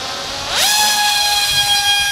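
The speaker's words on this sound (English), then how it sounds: "the tail motor is truly powerful, you can even launch the screamer like a rocket" Foxtech Screamer250 drone's tail motor spinning up: a rising high-pitched whine that climbs sharply then holds steady as a loud, piercing tone over airy hiss.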